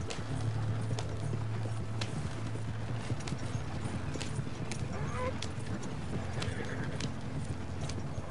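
A horse gallops in the Red Dead Redemption Online video game with rhythmic hoof clip-clops and a brief whinny, alongside quieter game ambience.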